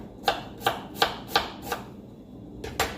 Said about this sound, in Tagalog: Kaya hiwain ko po muna ang aking sibuyas.